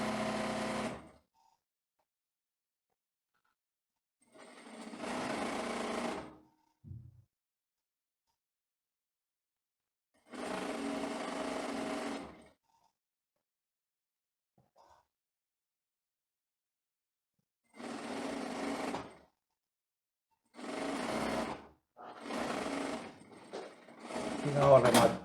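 A sewing machine stitches the inseam of women's tailored trousers in several separate loud, close bursts of rapid whirring, with quiet pauses between runs and brief voices in the gaps.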